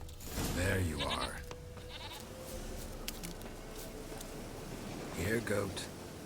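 Goat bleats from The Witcher 3, with a bleat early and another near the end, sounding alongside a voice calling to the animal amid game ambience.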